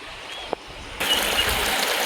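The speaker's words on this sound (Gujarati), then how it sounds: "જોઈ શકો છો આવું સરસ મજાનું અત્યારે અહીંથી પાણી આવી રહ્યું છે." Water flows down Osam hill in Patanvav, Gujarat, at first a faint trickle with a single knock, then a sudden louder rushing wash of the stream that continues steadily.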